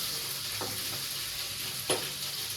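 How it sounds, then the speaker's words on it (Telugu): Onions frying in hot oil for Mughlai chicken: a soft, steady sizzle with a couple of brief stirring scrapes, fairly quiet and close, with no voices. "ఆనియన్స్ కూడా వేసేస్తాను"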